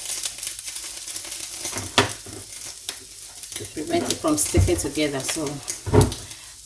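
Vegetable oil sizzles and fries in a pan while a pasta sauce is started for bacon and chicken spaghetti. The crackle is steady and close throughout, with utensil clatter and stirring, plus a few sharper pops near the end.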